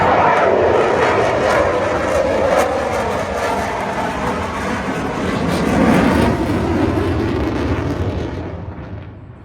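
A turboprop aircraft engine roars loudly and steadily as the plane passes at the Malta International AirShow, the drone swelling midway and then fading as it moves off.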